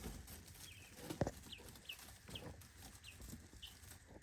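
Young guinea fowl keets give faint, short chirping calls at a fairly regular pace, with one sharp knock partway through, in a quiet farm setting.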